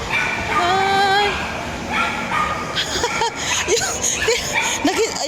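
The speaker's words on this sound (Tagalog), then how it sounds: "Nagwawala yung aso." A dog barks, yips and whimpers excitedly in rapid, agitated bursts, close and fairly loud, with people talking over the commotion in a busy outdoor setting.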